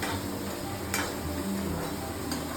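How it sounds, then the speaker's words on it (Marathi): Chopped onions sautéing slowly over low gas in a pan for a Maharashtrian vegetable dish, a steady soft sizzle with a couple of faint spatula taps, close and continuous. "कांदा टाकले आता परतावायचा चांगला फसलापैकी मंद आज ठेवायची गॅस थोडा बारीक ठेवायचा स्लो परतवून घ्यायचा"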